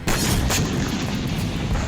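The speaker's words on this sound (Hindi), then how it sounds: "रूस ने सुज्जा में मौजूद यूक्रेनी सैन्य बेस पर मिसाइल से हमला किया, जिसके बाद जबरदस्त धमाका देखा गया।" A heavy explosion follows a missile strike on a military base in wartime, a sustained loud boom with rumbling, crackling blast noise filling the short stretch.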